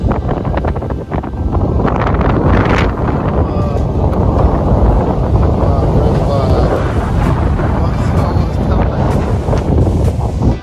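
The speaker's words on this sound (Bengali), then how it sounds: "মারাত্মক হাওয়া বইছে, বাপরে বাপ। জানি না আওয়াজটা আসছে কিনা, ক্যাপচার করতে পারছে কিনা ক্যামেরাতে।" A fierce storm wind roars outdoors during rain, heard through a partly opened window as loud, constant rushing and buffeting that fills the whole stretch.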